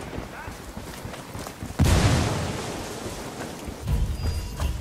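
A frag grenade goes off in the video game Ghost Recon Wildlands, a sudden loud boom that rolls into a long rumbling decay over background game noise, with a second swell near the end.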